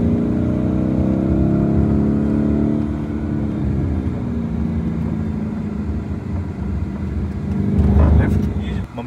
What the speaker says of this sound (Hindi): मैं आपको लैम्बो का सेकंड गियर पुल चेक कराने वाला हूँ।